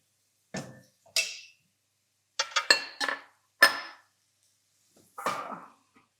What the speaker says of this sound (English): close the lid.